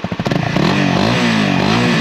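A Honda CRF 250 Rally motorcycle engine revs hard in a few sharp blips, then settles into a loud, steady, close-up running note.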